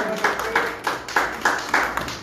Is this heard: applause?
yes